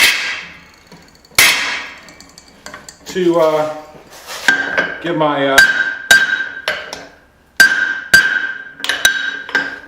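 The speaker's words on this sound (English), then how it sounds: "I gotta get this punch in there" Hammer blows driving a punch through hot steel at a forge, sharp ringing metallic strikes spaced irregularly with bright tonal rings, interleaved with someone talking nearby.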